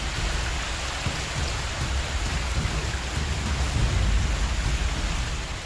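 Heavy monsoon rain pours steadily over flooded Chennai, a dense, continuous hiss with a low rumbling undertone that swells slightly toward the end, with no voices.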